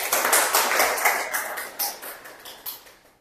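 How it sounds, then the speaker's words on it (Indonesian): A small class claps together for a few seconds, steady and fairly close, with no talking over it. "Kita tepuk tangan dulu buat kelas kita hari ini."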